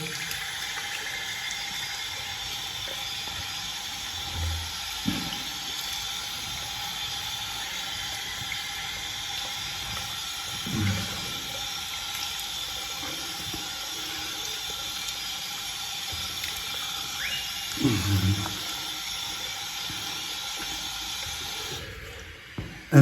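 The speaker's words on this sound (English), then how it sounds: "Cold water, I'm going to rinse my face." A bathroom sink tap runs steadily with cold water while someone rinses their face, a continuous close hiss punctuated by a few soft splashes and a sharper splash near the end before it cuts off.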